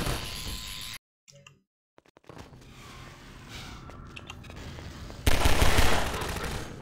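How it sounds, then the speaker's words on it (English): Automatic turret gunfire in the video game Half-Life 2, a rapid rattle of shots behind in-game noise that cuts out briefly, then returns and swells into a loud burst near the end. "I was trying to kill the turret."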